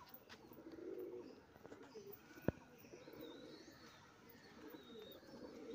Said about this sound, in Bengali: এই আরেক জোড়া ফুলশিরা পায়রা শখ করাচ্ছে